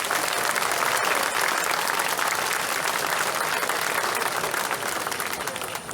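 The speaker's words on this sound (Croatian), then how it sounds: "vas molim da ih još jednom ohrabrite velikim pljeskom" Large audience at a contestant presentation in Đakovo applauding loudly and continuously, dense clapping throughout that eases slightly toward the end.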